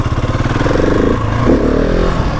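A 2020 Husqvarna 701 SM single-cylinder motorcycle with a fuel dongle revs hard in first gear for a wheelie, its loud, close engine pulsing and rising in a throaty, uneven roar.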